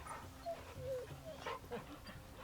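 Torgal, the dog companion in Final Fantasy XVI, gives a few soft, high whimpers and whines, faint and close, with quiet game ambience underneath.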